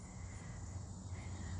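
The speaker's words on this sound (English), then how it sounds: "And the crickets." Crickets chirp outdoors as a faint, continuous high trill over a low background rumble, with no voices.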